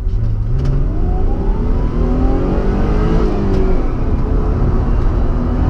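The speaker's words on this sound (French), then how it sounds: "Eh, le V6 chante bien." Ford Probe with a 2.5-litre V6 pulls away from a stop, its engine note climbing in pitch through the revs and then dropping back as it shifts, loud and continuous throughout.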